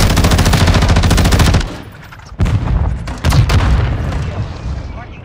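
Warzone 2 gunfire, a loud sustained stream of automatic fire that cuts out, then heavy booming shots and more bursts with a voice speaking over the top.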